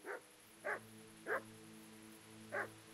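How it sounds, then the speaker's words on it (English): A dog barks four times in Kingdom Come: Deliverance, sharp separate yelps spaced unevenly over a steady low in-game hum, with no talk. "Sounds like the dog's like viciously mauled someone."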